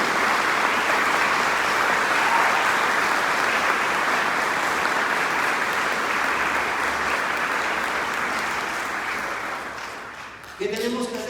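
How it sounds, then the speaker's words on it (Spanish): A church congregation applauds in a steady, full roar that lasts around ten seconds, then fades as a voice begins speaking at the end. "denle un aplauso digno para Él."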